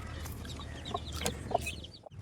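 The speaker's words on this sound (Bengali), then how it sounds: "আমাদের যে ফাইটার মুরগির যে বাচ্চাগুলো হয়েছিল, চলুন সে বাচ্চাগুলো দেখাই" Young fighter-breed chickens cluck softly in a few short, scattered calls, fairly faint against a quiet farmyard background.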